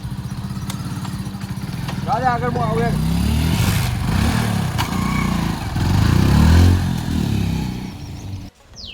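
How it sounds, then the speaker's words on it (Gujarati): A motorcycle passes on a road, its engine hum swelling and fading over several seconds while people talk over it throughout. "બહુ ટાઈમે બાઇક એક આવ્યું હવે"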